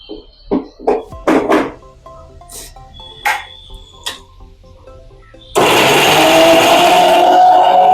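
A mixer grinder grinds sautéed onion and tomato masala for a green moong gravy, starting abruptly after a few scattered knocks and clatters and then running loud and steady as a continuous whirring roar to the end.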